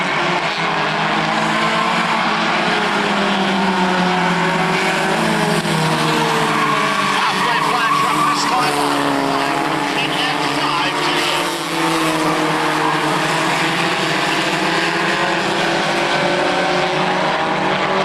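Race cars roar around an oval track during a 2001 race, a loud, dense, continuous engine wail with shifting pitch as the pack passes, an announcer's voice calling the action over it.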